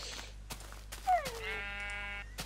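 A sheep in the Minecraft video game gives one clear, drawn-out bleat, fairly faint and isolated against a quiet background with a few soft clicks.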